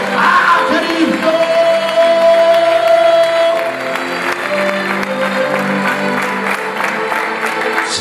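Church congregation applauding and cheering during a Spanish-language sermon, a dense sustained wash of clapping with shouts and whoops rising over it, loud and close throughout.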